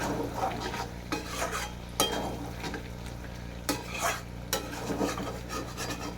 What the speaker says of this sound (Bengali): কাঁচা লঙ্কাগুলো একইভাবে ভেজে নেবো